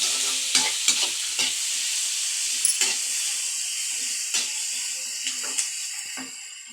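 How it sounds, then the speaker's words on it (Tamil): Onions sauté in hot oil for a hotel-style poori potato masala, with a constant bright sizzle and repeated crisp spatula scrapes against the pan at uneven intervals. "நல்லா வதக்கிக்கலாம்"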